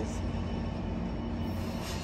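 An Amtrak passenger train with an F-59PHI locomotive at the rear departs along the Salinas River, its steady rumble and rolling wheel noise filling the air at close range without pause.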